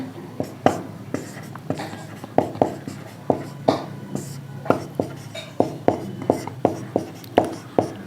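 Chalk or marker writing on a board during a class 10 coordinate geometry maths lesson, with repeated short scratchy strokes and taps in a steady rhythm, close and fairly clear, with faint whispery background.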